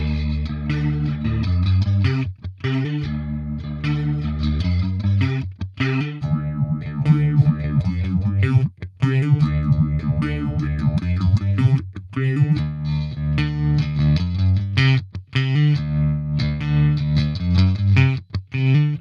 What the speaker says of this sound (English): here's what the modulations sound like